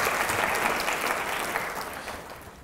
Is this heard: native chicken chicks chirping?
no